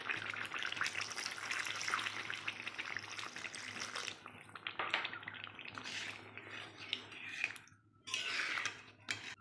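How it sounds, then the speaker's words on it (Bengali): Water poured into simmering chicken kosha in a pan, a wet running splash with bubbling and sizzling from the hot gravy, fairly close and fading in short bursts near the end. "এবার আমি পরিমাণ মতো জল দেব।"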